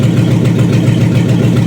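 A rebuilt 318 V8 in a 1976 Dodge Coronet idles just after a cold start, a steady, loud, close low rumble that holds even throughout with no voices.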